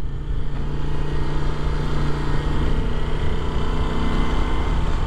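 A Moto Guzzi V7 motorcycle engine rumbling steadily and close while being ridden through a cemetery, a continuous loud drone with no pauses.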